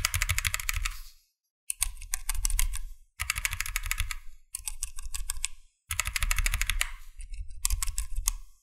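Someone types on a Wooting One analog keyboard fitted with Flaretech linear switches, producing fast, close bursts of clacking keystrokes separated by brief pauses.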